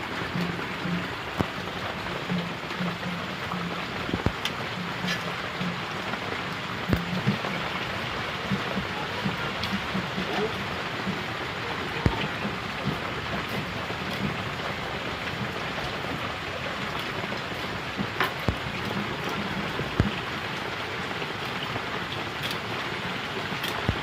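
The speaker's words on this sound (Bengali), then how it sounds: "তো আমাদের ওখানে দেখো বৃষ্টি হচ্ছে, বৃষ্টি মাথায় আমি মাছ কাটছি।" Steady rain falls outdoors during fish cleaning, a dense, continuous hiss with scattered sharper drops hitting surfaces close by, constant throughout and no voices.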